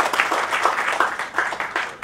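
An audience claps loudly and steadily at a live music evening, greeting a singer onto the stage.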